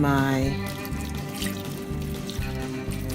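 Water poured into a pot of cooking chicken seasoned with paprika and crayfish, a steady splashing trickle heard close up with faint background noise.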